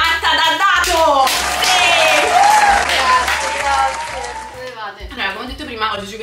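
A studio audience gives warm applause as a guest is brought on, with dense clapping running under a host's voice, followed by a short musical flourish.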